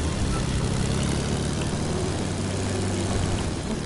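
A video game airplane engine drones steadily throughout, a dense low rumble with a propeller-like hum holding at even loudness. No voices cut in.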